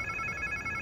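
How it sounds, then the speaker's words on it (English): A steady electronic phone ring in a video game, a sustained high trilling tone, fairly faint against a low background rumble. "Sounds like somebody's phone."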